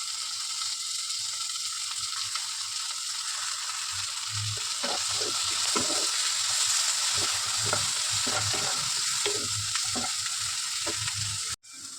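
Chopped onion and tomato fry in a pan under a constant sizzle, with a run of scraping, clicking stirs in the middle before a brief cut near the end; nobody speaks.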